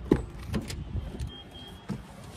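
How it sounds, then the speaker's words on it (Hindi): Tata Punch cabin interior while the engine starts, with a soft electric whir and a few low thumps and clicks over a steady hum, near and fairly quiet, no talk. "जब मैं स्टार्ट करता हूँ ना भाई गाड़ी के अंदर से एक साउंड आती है"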